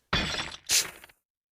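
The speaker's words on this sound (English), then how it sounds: "Poppy flinched as the glass broke beside her." A glass bottle thrown and shattering in an audio drama, a sharp crash followed by a second bright burst of breaking glass, loud and close, with no voices.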